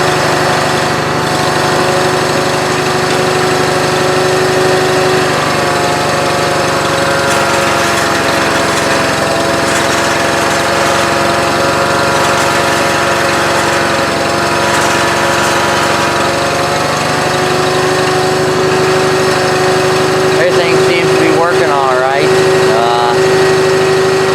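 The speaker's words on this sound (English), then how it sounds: "let me get the tractor fired up and see what happens" A John Deere 318 lawn tractor engine runs steadily and loud throughout, with a constant droning hum and a slight shift in pitch near the end.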